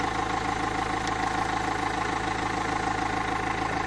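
A Renault Scenic 1.5 dCi diesel fitted with an HHO kit idles at a steady, unchanging speed, a continuous loud rumbling drone with even vibration and no revving.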